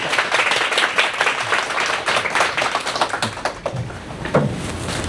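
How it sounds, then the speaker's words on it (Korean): An audience claps in warm applause at a church book concert, a steady dense patter of many hands lasting throughout, fairly close and without talk over it. "우리 뜨거운 박수로"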